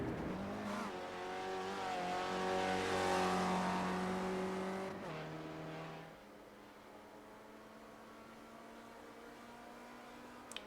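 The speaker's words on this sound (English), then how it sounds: "He's still just driving around the circuit." Race car from a Ford iSpec Racer challenge in a racing video game, engine note droning steadily as it laps the Park-Island circuit, pitch rising and falling through gear changes before settling to a quieter steady hum, with no talk.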